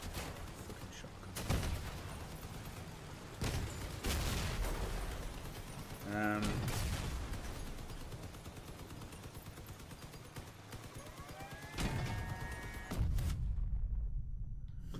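Shotgun blasts and other weapon fire in the vehicle combat game Crossout, sharp booming shots scattered irregularly through a noisy battle with engine rumble and mechanical clatter, ending abruptly.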